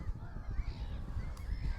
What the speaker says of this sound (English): the wildfowl and the coastal birds and that. There's absolutely loads here.